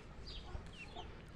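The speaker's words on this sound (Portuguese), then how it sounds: "Olha o frangão aí, gente," Free-range country chickens cluck softly in a farmyard, a few faint, distant calls over a quiet outdoor background.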